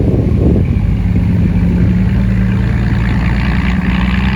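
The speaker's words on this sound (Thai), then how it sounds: "รอบเครื่องยนต์ไม่สูงครับ" An engine runs at low revs, giving a steady, loud, continuous mid-pitched drone with no talk over it.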